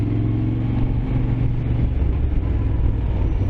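A Moto Guzzi Griso motorcycle engine runs steadily close by, a loud, continuous low rumble with no pauses and no voices.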